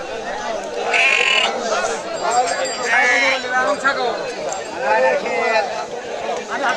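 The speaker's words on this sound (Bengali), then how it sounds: "খালি দেশি ছাগল দেখেন কত বড় ছাগল" Local native-breed goats, large black-and-white mixed animals, bleat repeatedly at a busy livestock market, several calls overlapping close by amid steady crowd chatter and talking.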